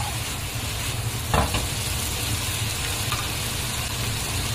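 Lamb and scallions stir-fried over high heat, a steady loud sizzle with scraping stir strokes throughout, one brief louder clatter near the middle, no voices.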